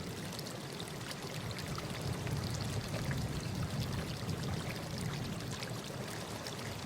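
Spring water pouring and trickling steadily in The 39 Steps PC game, a continuous close, moderately loud wash of flowing water with no voices.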